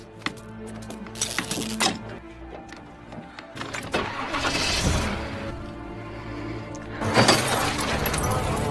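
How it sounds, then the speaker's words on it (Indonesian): A car is started without its starter, with clunks and rattles followed by engine noise that swells in bursts, loud and close, against a busy background. "bagaimana caranya menyalakan mobil"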